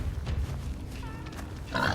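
A wild boar in Far Cry Primal grunting and snorting in a low, rough burst, followed by a higher squeal near the end, close and fairly clear, with a voice talking underneath.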